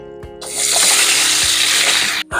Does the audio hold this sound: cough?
no